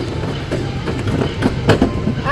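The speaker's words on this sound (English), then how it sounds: "I hear that train a-coming." A train rolling past in Icon Park, Orlando, steady rumbling with rhythmic clickety-clack wheel knocks, moderately close and continuous under the outdoor ambience.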